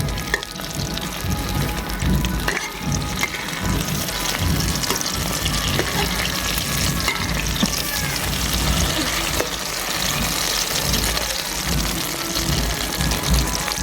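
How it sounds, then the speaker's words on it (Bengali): Batter-dipped flat beans (shim) fry in hot oil with a loud, dense, continuous sizzle and bubbling that stays steady and close throughout, without speech. "শিমগুলো ব্যাটারের মধ্যে চুবিয়ে নিয়ে এবার ভেজে নেব"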